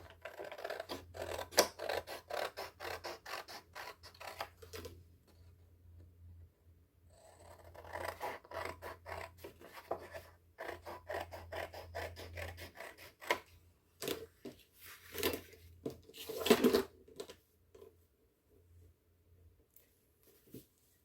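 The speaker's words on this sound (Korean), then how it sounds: "가위질이 익숙한 친구는 여기 바로 이렇게 잘라 주셔도 돼요" Scissors snipping through paper during a children's book-making craft: bursts of soft crisp cutting and rustling, close and fairly faint, separated by quiet pauses, with no talk.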